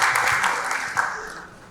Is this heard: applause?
yes